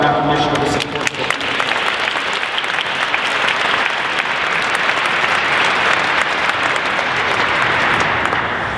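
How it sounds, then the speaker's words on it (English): Sustained, loud applause from an audience at a 2018 college graduate celebration and awards ceremony, dense clapping filling the whole stretch at an even level with a brief murmur of voices at the start. "let's give him a round of applause in recognition of this important work"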